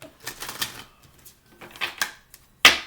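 Tarot cards are shuffled by hand in a few short riffling bursts, with small taps and shuffles between them. A sharper, louder riffle comes near the end.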